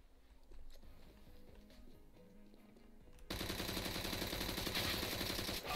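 Gunfire in the video game Counter-Strike: Global Offensive, with quieter game sounds giving way abruptly to loud, sustained rapid automatic fire that runs to the end.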